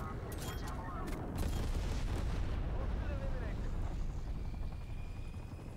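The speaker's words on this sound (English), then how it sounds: "Release napalm strike on my mark." Napalm strike explosions in Call of Duty Black Ops Cold War multiplayer burst through a dense, rumbling wash of fire and aircraft noise. Sharp crackles and booms come early, then settle into a loud, steady roar.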